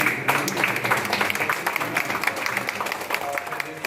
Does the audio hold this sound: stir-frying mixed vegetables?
no